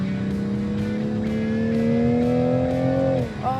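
A Toyota Supra sports car, built in Austria alongside the BMW Z4, drives on a road with its engine droning steadily and its pitch climbing smoothly as it accelerates, then easing off near the end. The sound is close and fairly loud, and nobody speaks.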